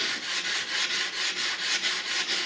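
Sandpaper backed by a board is rubbed by hand along a stainless steel knife blade, a rhythmic raspy scraping in quick regular back-and-forth strokes, close and steady.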